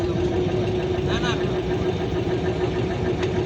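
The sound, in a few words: small launch boat engine in a Sundarbans creek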